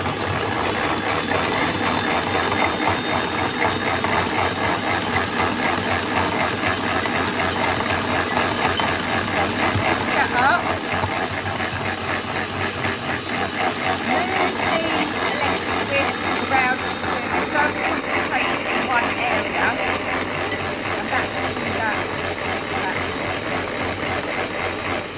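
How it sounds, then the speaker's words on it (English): An electric whisk whipping double cream in a bowl for a lemon cheesecake, a steady high motor whir with a rattling beater texture running continuously, while a person talks over it. "you're just going to mix that up quickly with some electric"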